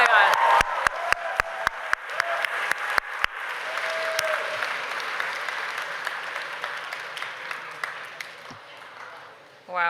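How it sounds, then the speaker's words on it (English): A gala awards audience claps and cheers, opening with a few loud, sharp, close claps before a broad wash of applause and whoops that gradually thins out, with a voice and mic noise at the end. "Can we give a huge round of applause to Bing?"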